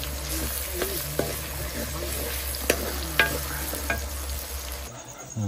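Fish frying in a pan with local tomatoes, a steady close sizzle broken by occasional sharp pops and stirring scrapes, with no talking.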